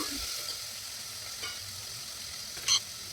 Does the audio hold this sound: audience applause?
no